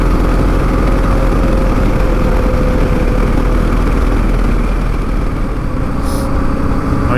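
A Yamaha XT660Z Tenere single-cylinder motorcycle carrying about 200 kilos, its engine droning loud and steady while riding, with heavy wind rush mixed in and no talking.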